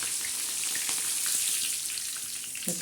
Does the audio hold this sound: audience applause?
no